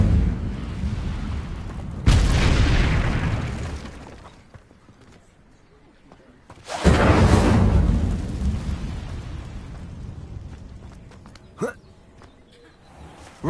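Incendio fire spell cast in a PS4 game, two rumbling whooshing bursts of flame that roar up and slowly fade, separated by quieter stretches with a brief sharp crackle late on.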